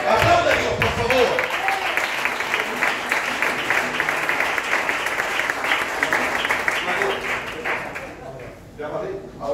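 A church congregation breaks into sustained applause, many hands clapping loudly and steadily before fading out near the end, with a few voices mixed in.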